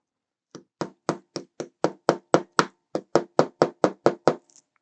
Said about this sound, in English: I'm having to use my hammer to ensure that's going in all the way.